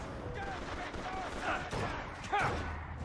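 Gunfire in BioShock Infinite, dense scattered shots and bursts layered with game sounds and some voice chatter, steady and moderately loud throughout.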